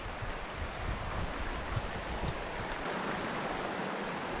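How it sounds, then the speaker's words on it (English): Water in a small creek flows in a steady, broadband rush that stays even and fairly soft for the whole stretch, with no voices. "I can hear the water."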